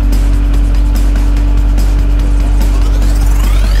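A Wacker Neuson loader's engine runs loud and close at about one-third throttle, around 1400 RPM, a steady droning hum with faint clicks and a rising whine near the end.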